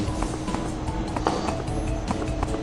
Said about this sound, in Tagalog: Kabayo na, hindi na aso.